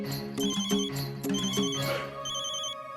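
A mobile phone ringing with an incoming call, a repeating melodic ringtone pattern of bright electronic tones that plays clearly and then fades, with no voices.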